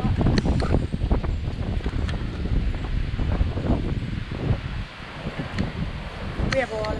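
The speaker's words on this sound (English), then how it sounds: "It's so windy." Strong wind during a California storm buffets the microphone in loud, continuous gusts, with rustling and rattling debris and occasional brief voices.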